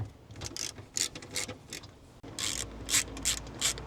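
A ratchet loosens bolts on a Toyota RAV4 XLE hybrid, giving close, rapid clicking in quick bursts. The clicks pause briefly, then resume louder and faster, with no talking.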